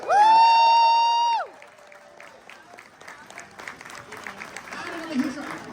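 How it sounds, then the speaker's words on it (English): Audience applause with a few cheers at a charity auction during a cider festival, rising after a loud tonal burst and continuing moderately under scattered voices. "Huge round of applause"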